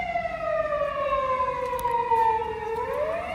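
A police car siren sweeps downward in a long falling wail and then begins climbing again, loud and near over a background of street noise, with no talking.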